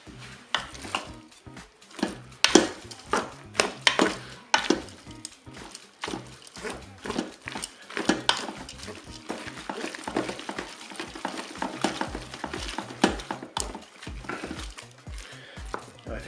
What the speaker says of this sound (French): Donc là, je vais bien mélanger.